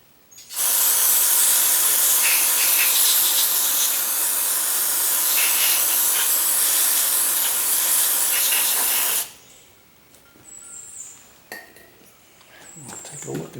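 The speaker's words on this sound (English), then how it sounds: "Before I do that, I'm going to squirt it with the carburetor cleaner." Carburetor cleaner sprayed from an aerosol can on a Husqvarna riding mower that won't stay running: one loud, steady hiss lasting about nine seconds, then faint tool clicks and handling noises.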